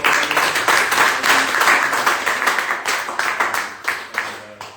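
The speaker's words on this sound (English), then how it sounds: "But can you give a round of applause?" Applause from a seminar audience at a homebuying event, a dense patter of clapping that thins into scattered claps toward the end, with a bit of talk mixed in.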